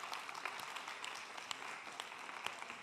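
A hall audience at the Climathon 2018 closing ceremony claps steadily, a quiet, dense patter of many hands with a few sharper individual claps standing out, heard from a distance.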